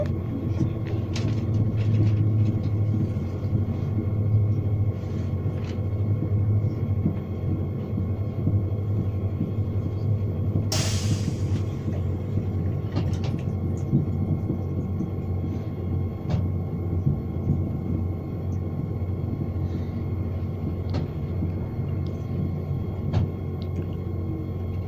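A train between Edinburgh and Falkirk rumbles steadily along the rails from inside a carriage, a low continuous drone with a sharp brief hiss partway through.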